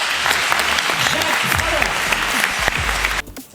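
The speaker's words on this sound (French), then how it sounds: "Je vous demande d'applaudir très fort Jacques Fradin." A live audience applauds Jacques Fradin at an event, loud dense clapping that fills the room for about three seconds and then stops abruptly.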